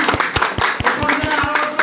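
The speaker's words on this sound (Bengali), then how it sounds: "স্যারের জন্য আরেকবার করতালি চাচ্ছি" An audience claps in a steady, rhythmic pattern for a speaker at a company training gathering, with a voice and a faint tone running underneath.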